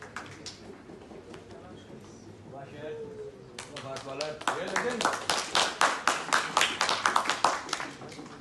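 An audience at a debating tournament grand final breaks into loud clapping and cheering that builds from scattered claps to dense applause, with voices calling out across the hall.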